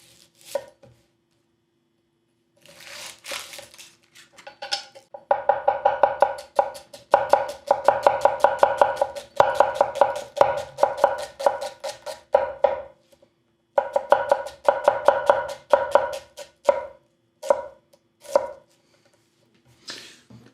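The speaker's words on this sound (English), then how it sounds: "Onion test with the Mazaki 165 millimeter Kurouchi Nakiri." Mazaki 165mm Kurouchi Nakiri knife chopping onion on a board, with dense runs of rapid, crisp taps in two long bursts, scattered single strokes before and after, and quiet gaps between.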